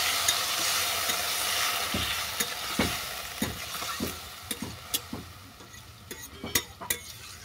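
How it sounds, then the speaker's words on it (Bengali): Spatula strokes scrape steadily through sizzling kalmi (water spinach) stems with a spoonful of sugar in a hot pan, the clatter growing sharper and more frequent toward the end over a constant hiss. "চিনিটা ভালো করে নেড়ে চেড়ে দিয়ে দিচ্ছি পরিমাণ মতো জল।"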